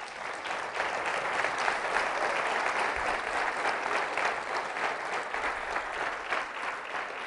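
A church congregation claps together in a full, continuous round, with a steady, even texture of many hands held at a constant level.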